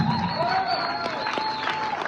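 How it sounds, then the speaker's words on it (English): Crowd applause at an outdoor rally against child protective services trafficking, a thin patter of clapping under electronic feedback tones and faint voices. "that deserves a round of applause"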